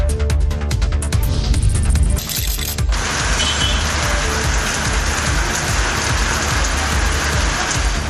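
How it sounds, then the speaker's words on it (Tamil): Heavy afternoon rain in Coimbatore after a hot morning, a dense, loud, steady hiss of downpour hitting surfaces, preceded by a brief mechanical rattling before the rain noise settles in. "காலை முதல் வெயில் வாட்டிய நிலையில் பிற்பகலில் பலத்த மழை பெய்தது."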